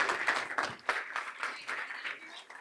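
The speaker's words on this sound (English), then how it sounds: "A round of applause." Light audience applause at a school board of education meeting honoring high school students, a brief scatter of claps that is fairly quiet and uneven in rhythm.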